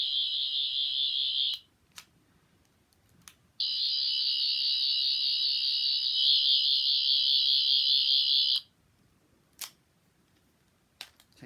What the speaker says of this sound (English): hold the buttons down, hear a beep